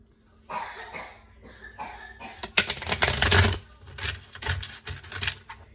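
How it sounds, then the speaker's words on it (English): A child with a cold coughs in harsh, repeated bursts, a cluster of sharp hacks close by, with no talking. "my child, who you may hear coughing in the background, has a cold"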